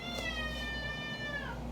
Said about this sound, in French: C'est le chat à Vivi.